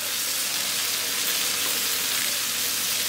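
Onions sauté in a hot pan for a quail chukka dish, giving a steady, loud, even sizzle and crackle throughout with no talking.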